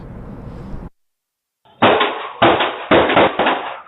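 Several sharp, loud bangs in a quick cluster follow a burst of noise and a brief silence, rapid gunfire from a deadly shooting picked up by a nearby surveillance camera.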